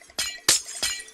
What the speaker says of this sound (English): when we break these ice in creative mode,